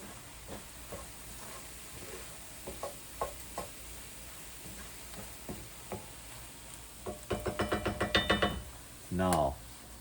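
A utensil stirs salt and pepper into mushroom soup in a pot, with scattered soft scrapes and knocks, then a quick run of clinks and a short hissing burst near the end, close by with no voices.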